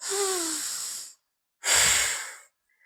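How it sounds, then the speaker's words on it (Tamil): Two long, deep breaths during a seated yoga leg-stretching exercise, close and clear, each a soft airy rush lasting about a second with a short quiet pause between them. "கால நீட்டி நல்லா மூச்சு இழுத்து விடணும்"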